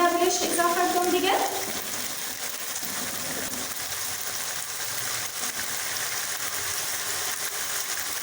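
Onions sizzling in a hot pan with a steady frying hiss, a brief bright clatter of stirring near the start, then continuous moderate crackle throughout.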